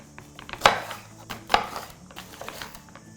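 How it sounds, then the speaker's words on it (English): Capsicum peppers being sliced lengthways with a knife on a board, two sharp knife-on-board thunks about a second apart followed by lighter cutting taps and rustles, close-up with no talking. "I'm going to take 3 peppers and I'm going to slice them lengthways."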